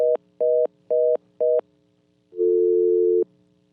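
A telephone busy signal on a radio call-in line after the caller drops: four short, evenly spaced loud beeps, a brief gap, then one longer tone.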